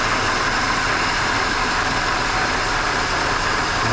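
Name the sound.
vibrating Holden Commodore supercharged V6 engine running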